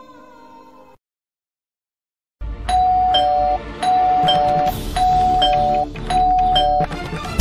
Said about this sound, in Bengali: অনেকক্ষণ ধরে কলিং বেল বাজাচ্ছি।